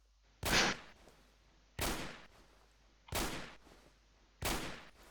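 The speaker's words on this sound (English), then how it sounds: "I fire a shot" Four evenly spaced gunshots from a firearm in the zombie survival game No More Room in Hell, each a sharp loud blast with a short decaying tail, spaced about a second and a half apart with no talking.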